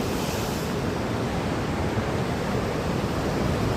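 Ocean waves wash below sandstone cliffs at Diamond Bay on Sydney's eastern coast, a steady, full-bodied surf roar with no breaks and no voices.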